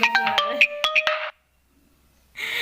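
A phone ringtone for an incoming call plays loud and close, a bright electronic melody of quick notes that pauses briefly and then starts again.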